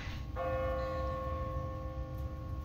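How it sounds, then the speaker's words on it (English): A church bell on an automatic timer tolls in The Walking Dead video game: one clear strike with a long, sustained ringing decay over a low ambient rumble, heard alone. "What kind of church bell goes off at 20 past the hour?"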